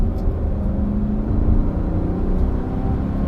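GMC Sierra pickup with a 5.3 liter V8 and 8-speed transmission accelerating on the road, heard from inside the cab as a steady low engine rumble and whir, with no talk.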